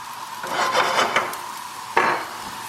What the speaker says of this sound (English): So sautéing your vegetables is the best way, I find, to have them with breakfast.